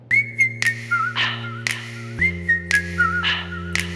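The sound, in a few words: whistling in a song intro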